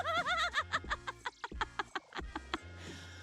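A rubber chicken toy squawks up close, first in a few wavering, honking squeals, then in a quick run of short, sharp squeaks that trail off into a fainter rasp.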